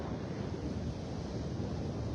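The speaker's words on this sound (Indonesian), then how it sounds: "saat ini saya ada di pesisir pantai" Ocean surf washing steadily onto a beach on the coast a few hours' drive from New York City, a continuous broadband roar with wind buffeting the microphone and no pauses.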